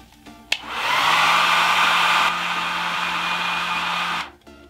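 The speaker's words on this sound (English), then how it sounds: "Then you take a blow dryer" A blow dryer heats the hair on a wig: a click, then a loud, close, steady whooshing blast that shifts slightly midway and cuts off near the end.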